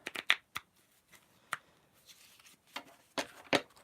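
Playing cards shuffled by hand for a reading, a string of crisp riffling bursts and soft slaps spaced unevenly, loudest at the start and end, close and fairly quiet with no voices.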